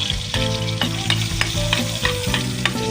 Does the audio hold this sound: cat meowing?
no